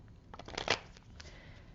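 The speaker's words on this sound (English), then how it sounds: "I'm just going to shuffle a little bit more." Tarot cards are shuffled close up, with a short flurry of papery riffling that peaks midway, followed by a few lighter card taps.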